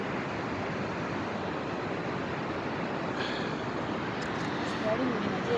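Muddy, silt-laden Hunza river water rushing after a landslide in Gilgit, a steady, loud broadband roar of flowing water that stays constant throughout, with no talk.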